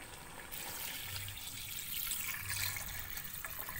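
Water poured into a pot of Kapampangan chicken lemongrass soup seasoned with fish sauce, making a steady, close splashing trickle that runs throughout with no talking.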